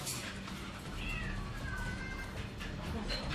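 A cat meows repeatedly in a tense scene along a wall, its rising and falling cries standing out over a constant rumbling, noisy background.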